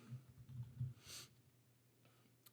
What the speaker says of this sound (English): Type in 50 free.